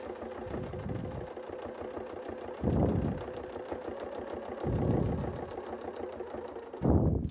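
A sewing machine stitches a quilting design along curve templates, its rapid needle chatter running steadily and close, swelling into louder bursts roughly every two seconds as the stitching speeds up.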